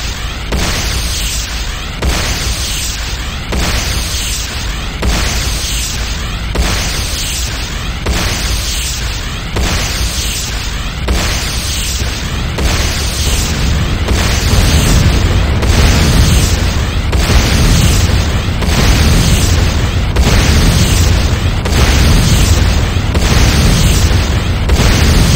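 Repeated heavy explosions as a GDI infantry barracks is destroyed in C&C Renegade, loud booming bursts arriving roughly every second over a dense, steady roar that grows louder in the second half.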